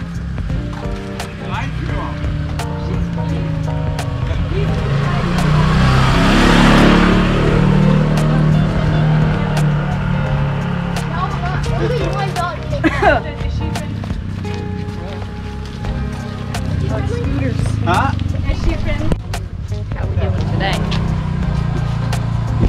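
Stream of scooters in Bali's Scooter Alley buzzing and whooshing by close at hand, one swelling pass peaking early amid a continuous engine drone with clatters, while people talk throughout.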